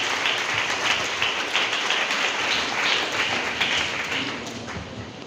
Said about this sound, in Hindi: काफ़ी जोर से ताली बजाकर सभी के लिए ताली बजाकर स्वागत करेंगे।